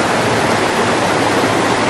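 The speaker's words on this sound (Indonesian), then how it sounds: "Kita melewati jalur sampingnya aliran sungai" A river stream beside a trail on Mount Salak near Bogor, West Java, rushes in a loud, steady, close wash of water with no voices.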